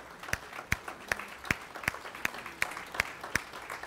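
A church congregation applauds in rhythmic unison, sharp, evenly spaced claps repeating about every third of a second, close and fairly loud with no voices over them.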